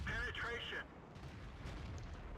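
A tank cannon fires once in World of Tanks, a loud booming blast at the start that decays into a low rumble and faint mechanical noise.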